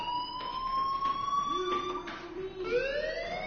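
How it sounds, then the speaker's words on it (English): A fire alarm wails inside a video game, a rising and falling electronic siren tone with overlapping pitches, continuous and fairly loud, with faint voices underneath. "Hey, do you hear that fire alarm?"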